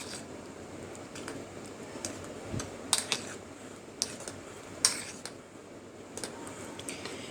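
A spoon stirring a fruit ice cream mixture with cherries in a bowl, soft scraping with scattered light clicks and taps at an uneven rhythm, quiet and close.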